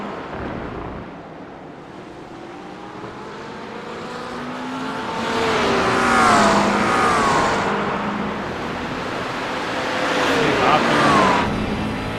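A McLaren GT3 race car heard from on board on the way into a tight chicane at Road Atlanta, with an engine note that rises and falls as it brakes and accelerates under steady commentary.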